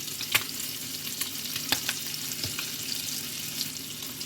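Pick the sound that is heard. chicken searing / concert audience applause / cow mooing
chicken searing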